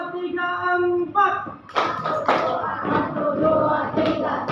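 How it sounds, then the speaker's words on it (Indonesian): Indonesian schoolchildren in a class do a rhythmic counting clap chant: a teacher's chanted voice opens, then a group's loud, dense burst of claps and shouting voices takes over, steady and close. "Mari kita tepuk 2, 3, 4."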